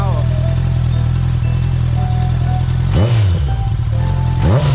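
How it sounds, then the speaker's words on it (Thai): A Honda CBR650R motorcycle engine idles with a steady low rumble, while a voice talks over it in places. "นี่เสียงรอบเดินเบานะครับรอบเดินเบ"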